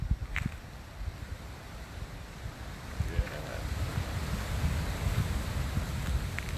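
Wind buffets the microphone in a low rumble while ocean water washes against the coast beyond, a steady broad hiss that swells slightly toward the end, with no voices.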